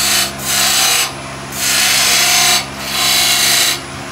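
On a wood lathe, a gouge cuts a flat fillet into a raised bowl in three long, loud scraping passes, each broken by a short pause, with a steady hum running underneath.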